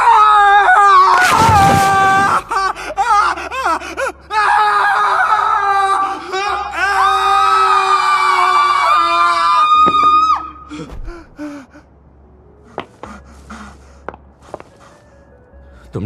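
A cartoon character in a dubbed Hindi genie fantasy series lets out long, loud screams and wails across the first ten seconds, followed by scattered footsteps and quieter movement.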